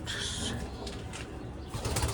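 Flying pigeons kept by a hobby breeder coo softly and briefly in a quiet spot, faint and low without any talk.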